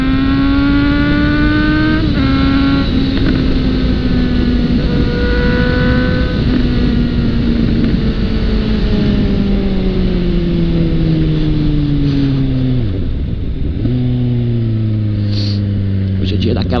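Suzuki GSX-E 750 motorcycle engine revving loud and close, its pitch rising and falling through several gear changes with a deep dip near the end, with a voice talking over the engine throughout.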